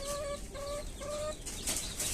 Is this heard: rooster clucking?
yes